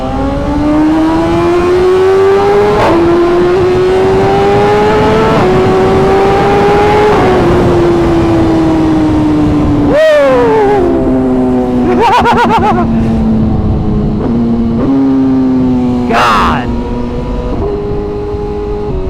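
A loud superbike engine revs up and down repeatedly at night, booming and echoing inside a road tunnel, with a brief exclamation from a voice.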